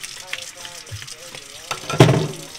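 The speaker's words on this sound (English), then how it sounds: "So just turn a little water on," Water runs from a kitchen sink tap at a low flow while a red snapper is being scaled, a soft steady gush with a louder splash near the end and some faint talk.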